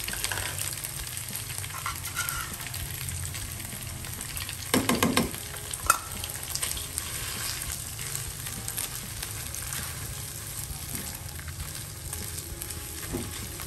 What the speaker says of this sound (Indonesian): Kita ratakan daging kornet ke bumbunya